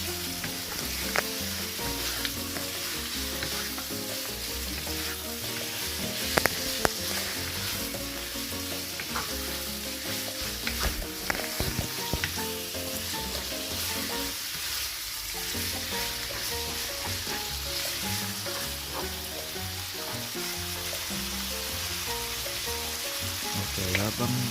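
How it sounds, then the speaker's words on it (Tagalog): Chicken sautéing in a pan until lightly browned for Filipino tinola gives off a steady, dense sizzle with faint stirring scrapes, continuous and close throughout. "saute until the chicken is a bit brown, hanggang sa maluto ng kaunti yung chicken"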